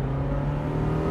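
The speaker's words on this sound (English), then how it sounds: "it needs to be revved like that, and it's an absolute delight." A loud Mazda MX-5 engine holding a high, steady rev, a strong tonal hum filling the brief moment.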